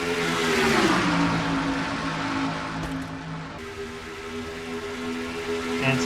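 Stock race cars in an NNSCRA Castrol GTX Cup all-star race roar off turn four in a dense pack, engines droning and shifting pitch as they sweep past, loud and continuous with no talk over them.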